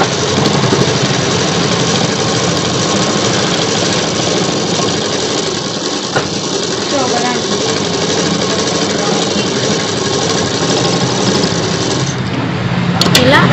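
A sewing machine stitches a collar night suit in one loud, unbroken mechanical whir that runs at a steady pace without pausing.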